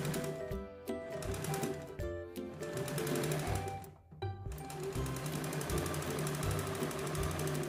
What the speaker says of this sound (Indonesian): Kemudian bagian sisi yang masih terbuka kita jahit untuk menutup.